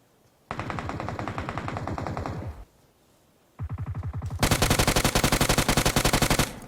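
Rapid automatic gunfire in PUBG Mobile, a long burst followed by a pause, then a second sustained burst that grows louder and brighter, close and loud with no talking over it.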